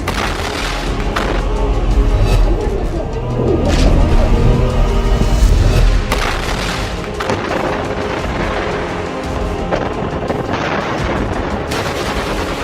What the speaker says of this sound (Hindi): इजरायली सेना पर महज 100 से 150 मीटर दूरी से एंटी टैंक मिसाइलें और रॉकेट से हमले हो रहे हैं